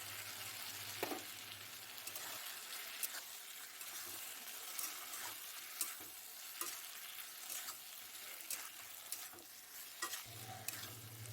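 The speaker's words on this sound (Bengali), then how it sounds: "এখন আমি এই মশলা দেওয়ার পরে আলুটাকে একটু ভালোভাবে কষিয়ে নেব।" Potatoes sautéing with spices in a pan for a vegetarian paneer dish are stirred steadily, producing quiet, regular scraping strokes over a soft, continuous sizzle with no voices.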